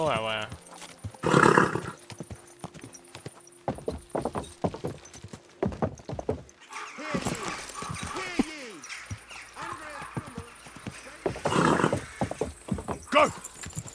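A horse gallops in the medieval game Kingdom Come Deliverance 2, with loud rhythmic clip-clop hoofbeats, bursts of snorting and a whinny.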